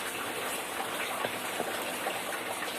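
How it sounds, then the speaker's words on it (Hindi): Heavy rain pours steadily, a dense broadband hiss of water hitting surfaces with faint scattered drops, continuous and fairly close throughout, with no voices. "आज बारिश बहुत हो रही है"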